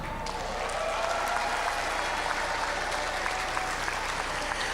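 Audience applause for National Merit Scholars at a high school class of 2021 event, a steady wash of many hands clapping at moderate distance, sustained throughout.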